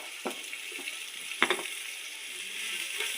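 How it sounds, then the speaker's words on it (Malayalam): Chopped onions frying in ghee with cardamom, cinnamon and cloves give a faint continuous sizzle, punctuated by a few sharp ladle scrapes and taps against the pan. "നമ്മൾ നെയ്യിലേക്ക് ഏലം കറുവപ്പെട്ട ഗ്രാമ്പു ഇട്ട് കൊടുത്തിട്ടുണ്ട് അതുപോലെ തന്നെ അരിഞ്ഞു വെച്ച സവാള ഇട്ട് കൊടുക്കുന്നുണ്ട്"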